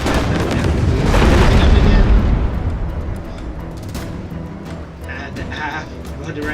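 Cannon fire strikes a ship in the naval game Abandon Ship, a loud heavy boom rolling into a long crackling decay, with a voice talking over parts of it.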